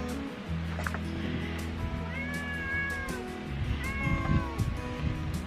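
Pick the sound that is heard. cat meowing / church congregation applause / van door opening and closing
cat meowing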